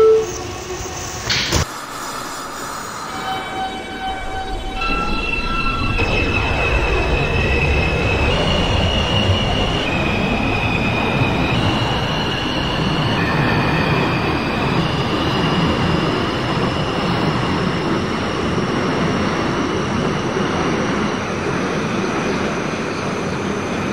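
An R160 subway train in the OpenBVE simulator starts with a sharp clunk, then motors whine up through rising, stepped tones while wheels rumble steadily on the track. The sound is loud and continuous for the whole run.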